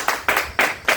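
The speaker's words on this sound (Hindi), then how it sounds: "के लिए जोरदार तालियां।" A brief burst of clapping at a business discussion meeting, four dense, broad bursts of applause coming in a quick regular rhythm at close range.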